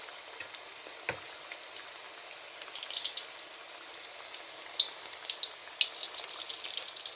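Vegetable pakoras made with long-cut potato slices deep-frying in oil over a lowered gas flame give a soft, steady sizzle with scattered crackles and pops, fairly quiet and with no talking.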